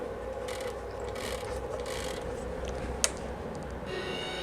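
Grinding and rubbing from a gear inside a mini mill's gearbox, a steady low mechanical churn with one sharp click near the end and faint ratchety scraping, all at close range.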